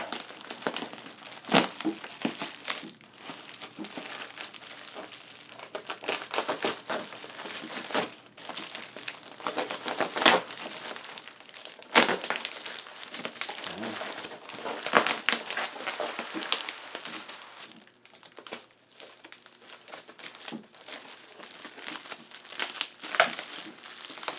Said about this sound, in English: let's break through this bubble wrap